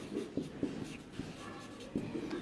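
Chalk or marker writes on a classroom board during a maths lesson, a quiet run of soft taps and scratchy strokes with a few sharper contacts, heard close and alone.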